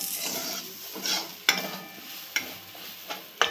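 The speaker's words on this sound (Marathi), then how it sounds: "तर आपलं तांदूळ भाजायचं आहे 2 मिनिटं।" Rice dry-roasting in a pan for Marathi rice kheer, a steady close sizzle and scrape of grains being stirred, with a few sharper spoon clicks against the pan.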